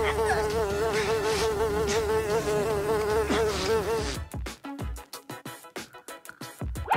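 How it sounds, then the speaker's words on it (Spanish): A housefly buzzes close and steady with a wavering drone, then gives way to sharp irregular bursts of buzzing and movement. "¡Mosca! ¡Te estoy esperando!"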